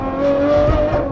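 A V12 luxury car engine revs hard and loud close by, a steady droning roar with rising pitch through the short burst, and no talk over it.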